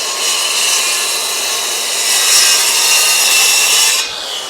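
A sawmill blade cutting timber-frame joinery, making a finish cut into a 1-inch-deep notch, produces a loud, steady, continuous sawing roar that holds for several seconds before dropping slightly at the end.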